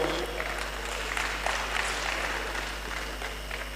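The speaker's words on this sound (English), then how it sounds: "Please round of applause for him." Audience applause at a regional economic development summit session, a moderate spread of clapping in a large hall, steady and fairly even with a low background hum underneath.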